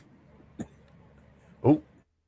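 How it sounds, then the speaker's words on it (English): A man coughs twice in a quiet room, a short single cough followed about a second later by a louder, harsher, throaty cough. "when he's finished coughing up his lungs"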